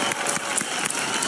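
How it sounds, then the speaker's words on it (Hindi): A studio audience at a TV reality show finale breaks into loud, close applause for a guest performer, a dense burst of rapid clapping that runs continuously for the brief moment. "सुदेश जी के लिए जोरदार तालियां।"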